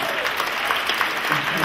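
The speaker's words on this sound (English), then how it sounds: "give a big round of applause" A crowd at a participation event applauds with steady, close clapping at moderate loudness, with some voices mixed in beneath the claps.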